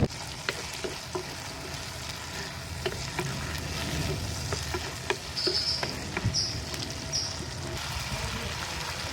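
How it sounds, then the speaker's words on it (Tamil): Garlic, small shallots and tomato sautéing in a pan, a close crackling sizzle with repeated sharp scrapes and stirring clicks at an irregular pace, and no voice over it. "பூண்டு, 10-12 பல்லு இருக்கும், ஒரு 15 சின்ன வெங்காயம் சேர்த்து வதக்கிக்கலாம்."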